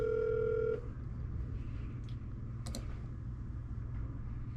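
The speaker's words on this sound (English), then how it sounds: "so now it's just ringing" A telephone call rings out on the line in a quiet room: a steady tone for the first moment, then low hum and faint clicks.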